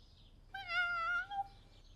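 A single cat named George gives one clear, drawn-out meow lasting under a second, close and alone against a quiet background.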